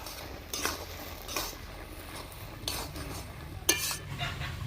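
A spoon stirs Malabar spinach curry with rohu fish roe and potatoes in a pan, making several soft scraping strokes and light metallic taps at uneven intervals over a faint low sizzle.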